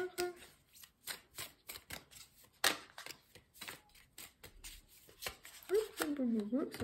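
Playing cards are laid down and shuffled close by, a run of quick papery slaps and riffles over several seconds, with a voice speaking near the end.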